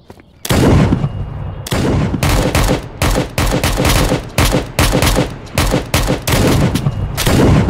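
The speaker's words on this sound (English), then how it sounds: "Never mind, we're getting shot at." Dense bursts of automatic gunfire in the video game Project Delta, loud and close, with rapid volleys broken by short gaps across the whole stretch.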